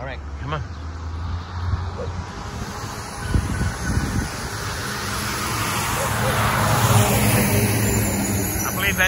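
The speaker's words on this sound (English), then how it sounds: "That bus was about to run me over." City bus passing very close on a street in San Isidro de El General, Costa Rica, its engine growl and road rumble swelling loud over the last seconds above general traffic noise.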